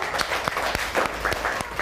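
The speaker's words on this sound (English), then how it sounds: "Clap for him, everybody." A classroom of students applauding a classmate, a brief burst of rhythmic, fairly close clapping from a small group lasting under two seconds, with no talk over it.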